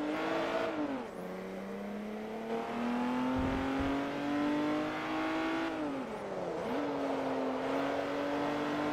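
Saab saloon engine in the Forza Motorsport 3 racing game growling steadily and loudly, its pitch climbing and dropping through gear changes and revs with no talk over it.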